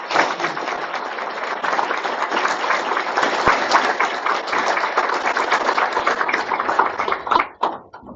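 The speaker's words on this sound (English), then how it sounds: "how about another round of applause for all of us?" A crowd at a parish school board meeting gives a long, loud round of applause, dense steady clapping for about seven seconds before it thins out and stops.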